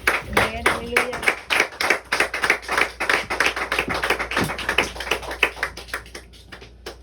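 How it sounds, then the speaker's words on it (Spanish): Church congregation clapping in praise, many hands in a brisk, rhythmic, loud applause that sustains for several seconds and thins toward the end, with a voice briefly over it at the start. "Démosle un fuerte aplauso al Señor."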